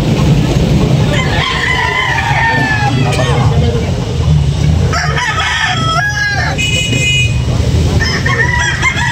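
Several roosters crow repeatedly at a chicken market, some near and some farther off, over a steady outdoor background hum and scattered clucking.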